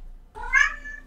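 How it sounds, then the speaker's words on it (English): A house cat lets out a single clear, fairly loud meow that rises and then trails off, heard alone against a quiet room. "Well, that was my cat."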